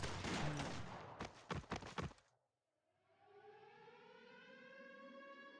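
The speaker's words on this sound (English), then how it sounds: "Sirens start blaring at the sarcasm camp as the patrol goes down." Civil defense siren wailing over a camp in the Arknights video game, rising after a burst of gunfire and thuds, then a steady loud blaring tone holding to the end.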